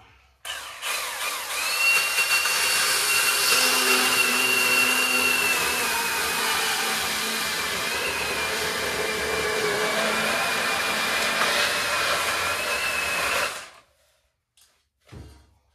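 A Milwaukee M18 top handle chainsaw cuts through wood, a loud, steady high-pitched motor whine that holds under load for about thirteen seconds, then cuts off abruptly, followed by a couple of faint knocks.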